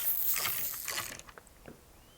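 Ratchet clicks from a mechanic unscrewing screws on a car in Car Dealer Simulator, a quick burst of close rapid clicking that tapers into a few sparser clicks, heard alone without talk.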